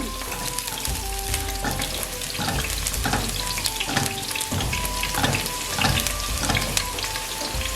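Steady sizzling of chicken frying lightly brown in a pan, continuous and close, with occasional clinks of stirring and a faint tonal hum in the background.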